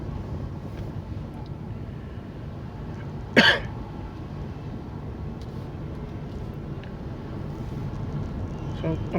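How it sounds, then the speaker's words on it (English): A single short, sharp cough bursts out close to the microphone midway through, set against steady low outdoor rumble and light wind in cold weather. "So I'm coughing a little bit"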